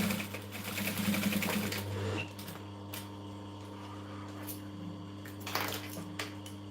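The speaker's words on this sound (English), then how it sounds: "just sew over that same stitch line and it'll be fine" Sewing machine stitching along the edge of an upholstery-fabric business bag, a fast rattling run for about two seconds, then a quieter steady motor hum with a few light clicks.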